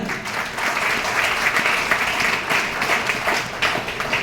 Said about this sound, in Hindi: मैं चाहूंगी उनके लिए जोरदार तालियां दी सर